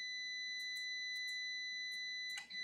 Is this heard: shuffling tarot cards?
no